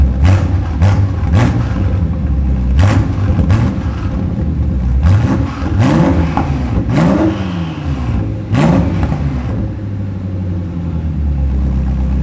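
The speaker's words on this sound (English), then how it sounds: "We'll give it a little baby rev." Revving of a BMW M8 Competition engine fitted with secondary downpipes: several short, loud blips with rising and falling pitch over a steady rumbling idle, close by.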